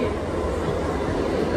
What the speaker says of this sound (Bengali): আমাদের কিন্তু ট্রেন ঢুকে পড়েছে